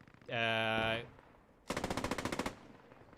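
Gunfire in the Post Scriptum World War II shooter: a rapid automatic burst of about a dozen sharp, loud shots, preceded by a sustained harsh mechanical tone.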